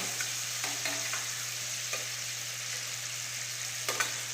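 Fried potatoes stirred into a tomato and spice mixture in a pan, giving a steady sizzle with a few scattered scrapes and taps from the spoon, close and fairly soft, with no speech.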